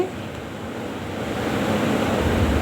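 Macaroni boils in a pot of salted water with a tablespoon of oil, giving a steady, close, rolling bubbling hiss that builds slightly over the few seconds.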